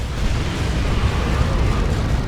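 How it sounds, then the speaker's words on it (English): A rocket run strike from the Dawn of War 2 strategy game, a rolling barrage of dense booming explosions that stays loud and continuous for the whole stretch. "Oh, there's the rocket run."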